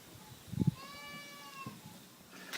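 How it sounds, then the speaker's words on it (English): A goat lets out one drawn-out, wavering bleat inside a shared cow and goat shed, fairly faint and mid-distance, framed by a few soft thumps and rustles. "Here's the cow shed, but it's also a goat shed, as you can hear."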